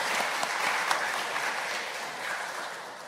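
Applause from a church congregation at a joint revival service of a Methodist district, a steady wash of clapping filling the room for a few seconds with no talk over it.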